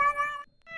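A cat gives one clear, close meow that stretches into a second drawn-out cry after a brief pause, loud and alone with no voices.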